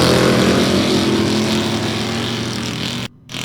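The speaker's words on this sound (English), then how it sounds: "You can hear the rev limiter going off." Off-road race truck engine held loud against its rev limiter, a continuous harsh roaring drone that cuts out abruptly for a moment near the end.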